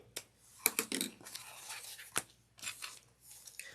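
Scissors trim fabric for a pocket while sewing, giving a few close, quiet snips and crisp cuts in short irregular bursts, with soft rustling between them.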